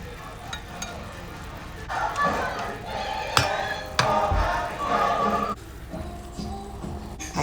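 Scotch eggs frying in avocado oil in a covered pan give a steady, close sizzle with occasional louder crackles and pops, no talk over it.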